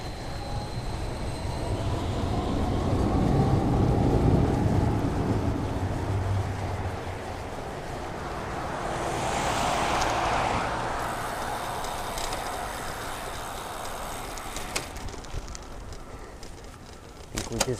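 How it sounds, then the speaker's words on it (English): A MetroLink train rumbles past overhead, a loud rolling roar that swells in the first seconds and fades, heard from a commuter's bike with road and wind noise and a brief voice. "There's the Metro Link above me."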